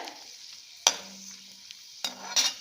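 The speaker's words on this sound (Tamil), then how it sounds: "ஸோ இது வறுபட்டுருது." Raisins fry in a pan with a constant sizzle while kesari is made, with two sharp metallic scrapes of a spoon stirring against the pan.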